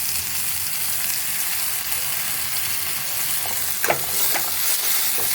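Soaked asafoetida drops into hot oil in a pan, a steady close sizzle and frying hiss with a few sharp spatters and stirring scrapes near the end.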